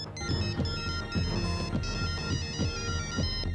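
A mobile phone's musical ringtone plays loudly and continuously, a bright looping electronic melody with a rhythmic beat and no speech.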